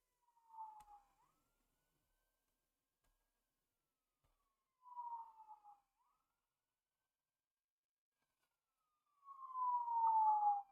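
Faint emergency sirens pass at a distance in three separate short wails, spaced several seconds apart with quiet between them, the last one longer and louder.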